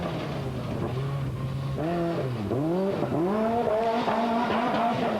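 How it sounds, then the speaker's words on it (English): Rally cars, including a Citroen ZX and a buggy, race through a tight, twisty prologue section of the 1994 Tunisia Rally Raid, with engines roaring and rising and falling in pitch through repeated gear changes, loud and close. "Nevertheless, the cars are finding their way through."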